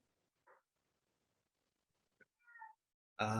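A house cat gives a few faint, short meows, spaced apart in a quiet room, ending with a louder, closer cry.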